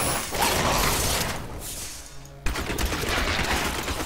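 Rapid-fire attack gunfire from the video game Diablo 3, a dense continuous burst of loud game weapon fire filling the scene, briefly thinning and then resuming with a sharp hit.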